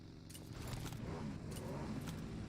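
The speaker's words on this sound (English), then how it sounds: "Hear that buggy going by." A buggy drives past in a battle royale video game. Its faint engine hum rises and holds steady for a few seconds, far off, with no talk.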